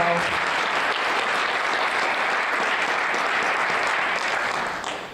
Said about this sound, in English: So just one more round of applause for Dan and Adam.